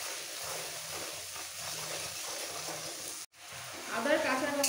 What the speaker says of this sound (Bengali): আদার কাঁচা গন্ধটা যাওয়া পর্যন্ত একটু কষিয়ে নিয়েছি।